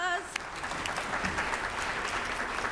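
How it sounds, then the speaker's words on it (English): An audience at a Columbus Metropolitan Club forum on Ohio's healthcare workforce shortage claps in steady, even applause that starts in full, heard close and continuing to the end. "Big round of applause"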